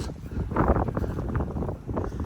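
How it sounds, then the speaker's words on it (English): Wind buffets an outdoor microphone in a garden near budding wisteria, a steady low rumble and rustle that swells around the middle and continues throughout. "Let's let the wind stop for a minute."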